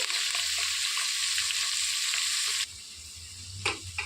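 Curry leaves hiss and sizzle loudly in hot oil for a biryani base, the steady crackle dropping abruptly partway through, followed by a few scraping stirs of a spoon in the pan.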